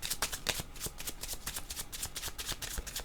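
Tarot cards shuffled by hand before another card is drawn: a dense, continuous patter of crisp flicking and riffling, close and moderately quiet, with no voice.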